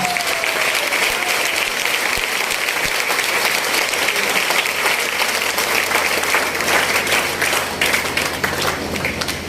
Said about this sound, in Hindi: तो एक बार अपने लिए जोरदार तालियां बजाइए